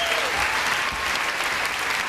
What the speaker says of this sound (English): Give this gentleman a big round of applause.